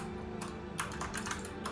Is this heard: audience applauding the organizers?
no